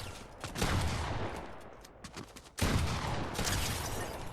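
Sniper rifle gunfire in the Fortnite video game, with loud sharp shots near the start and again around the middle, each followed by a dense noisy tail of in-game sound.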